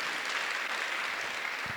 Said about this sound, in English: Please applaud the Globe and Mail for this day too.